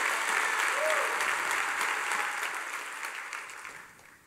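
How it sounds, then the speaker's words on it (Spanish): Church congregation clapping hard during a Spanish-language sermon, a steady dense wash of applause that holds loud and slowly tapers off toward the end. "Dele fuerte esas palmas"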